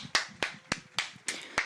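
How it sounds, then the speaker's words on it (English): One person claps into a headset microphone, six sharp, close claps in a steady rhythm, each one bright and distinct with no voices. "The applause you heard was Kate Isaac clapping into her microphone."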